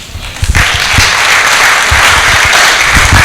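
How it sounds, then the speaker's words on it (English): A lecture audience breaks into loud, sustained applause after a talk on screen cultures and African Christian imagination. A few scattered claps lead into a full, steady ovation. "a big round of applause for Doctor"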